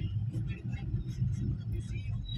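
Highway traffic jam near San Vicente, a low, continuous rumble of idling and slow-moving vehicles heard from inside a vehicle, with a person talking over it.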